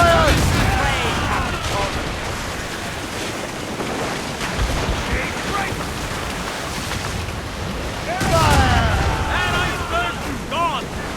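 Ship cannon fire in a naval battle in Assassin's Creed Rogue, heavy booming volleys over rushing wind and waves, with shouting crew voices in the mix and a louder burst of fire near the end.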